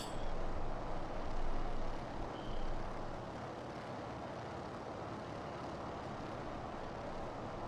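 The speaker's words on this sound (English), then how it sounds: "we're flying around BC in the Norseman at the moment" Norseman aircraft engine in Microsoft Flight Simulator, flying over British Columbia, a steady droning piston-engine rumble heard from the cockpit, slightly louder at first then even and constant, no talking.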